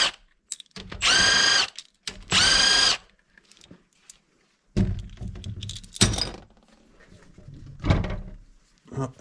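A power tool whirs in two short, loud bursts as 10 mm screws are backed out of a Honda Nice 110 cylinder head on a Lifan 107 engine, followed by clunks and scattered metallic handling noises.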